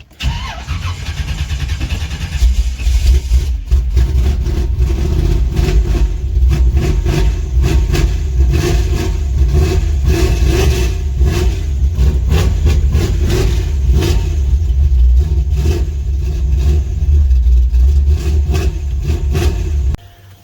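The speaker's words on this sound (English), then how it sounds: "Fill the carburetor up, help get it started." A ZZ4 crate engine in a Chevrolet C10 cranks briefly, catches and then runs loudly for about eighteen seconds, close up with rough rumbling revs and no talking, before cutting off.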